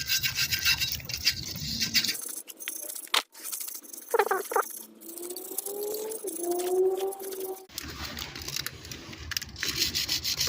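Brake disc parts on a Peugeot 206 2.0 HDi are rubbed clean in rough, scratchy strokes close by, starting and ending the stretch with a quieter gap of faint tones between.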